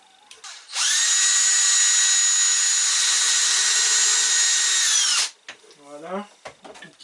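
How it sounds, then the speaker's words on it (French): A power drill bores a tiny hole for a small hook on a homemade Christmas decoration, whining steadily and loudly for about four seconds before stopping, with brief handling noises and a voice after. "je vais tout d'abord percer pour mettre ce petit crochet"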